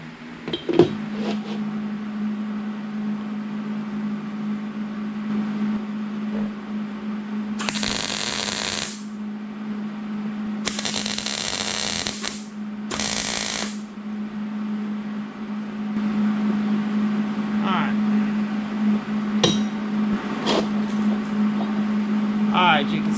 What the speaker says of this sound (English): I'm going to tack the corners here. That way then we can weld it all the way across.